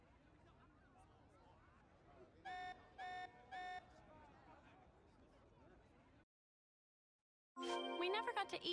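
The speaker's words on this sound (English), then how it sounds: "This alarm's worrying." An alarm buzzer in the video game Xenoblade Chronicles 3 sounds three evenly spaced electronic beeps over a low background of game ambience and murmured voices.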